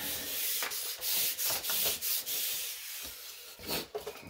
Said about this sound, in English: Cut it with the knife. Fold it.